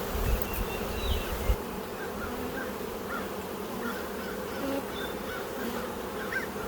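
Honeybees swarm over a hive frame while a double nuc with swarm cells is split into four nucs, a dense, continuous close buzzing drone that stays loud and steady throughout, with no talking.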